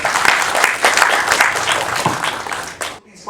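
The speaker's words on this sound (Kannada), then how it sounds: "ದಯವಿಟ್ಟು ಅವ್ರಿಗೊಂದು ಚಪ್ಪಾಳೆ ಕೊಡಿ" An audience at a film video song launch event claps, dense applause filling the room loudly for a few seconds before cutting off abruptly.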